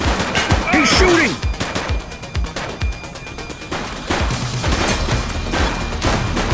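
Gunfire in The Precinct video game, a burst of sharp shots and crashing impacts in a police shootout, loud and close, mixed with game sounds.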